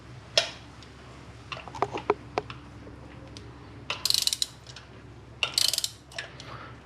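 Ratchet with a spark plug socket loosening a plug on a Mitsubishi Lancer Evolution X, short bursts of sharp close clicks separated by pauses, with a few metallic taps, no talking.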